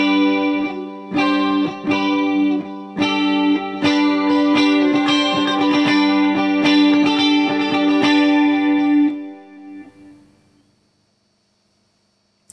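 Electric guitar chords, including partial barre shapes with a suspended fourth, strummed with heavy distortion in a series of rhythmic hits, ringing loudly, then a final chord decaying away into silence.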